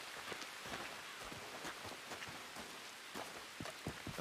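Steady rain falls close by, a dense hiss of drops pattering on a surface, with no voices.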